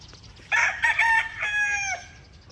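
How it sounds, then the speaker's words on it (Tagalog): A rooster crows loudly and close by in one drawn-out call, with faint clucking from other chickens around it. "Yan po yung naiwang mga manok naming"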